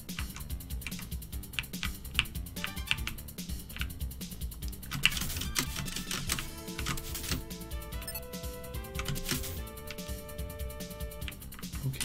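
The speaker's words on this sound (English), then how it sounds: "I apologize for all the keyboard noises." Rapid, uneven clatter of a computer keyboard being typed on close to the microphone, continuous keystrokes with tonal game music playing underneath throughout.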